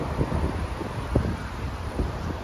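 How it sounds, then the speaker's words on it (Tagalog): Strong wind in Kuwait in late November rushes and buffets against the microphone in uneven low gusts, a steady roar with a few stronger thumps, no voices. "grabe hangin"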